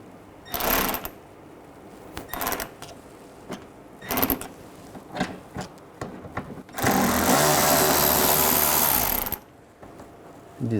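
A power driver with a T20 socket backs out a screw while the headlight is removed from a 2006-10 Volkswagen Jetta. There are several short clicks and handling knocks, then a sustained whirring burst of about three seconds, close by.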